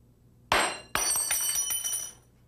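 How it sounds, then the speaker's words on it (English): A glass lab thermometer shatters with a sharp crack, followed by a second impact and a ringing, tinkling scatter of glass fragments on a chemistry bench, close and alone. "When a thermometer breaks, the glass and any liquid that spills out must be cleaned up"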